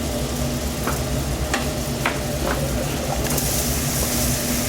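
Mushrooms frying for coq au vin give a steady, close sizzle in the pan, with a few brief clicks of stirring and a brighter hiss building near the end.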